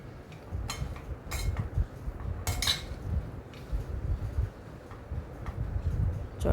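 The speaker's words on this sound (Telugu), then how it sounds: "ఒకసారి అంతా కలుపుకుందామండి." Mango pulihora rice is being mixed in a pan, giving soft scraping and intermittent metallic clinks of a utensil against the pan, quiet and close with no talk.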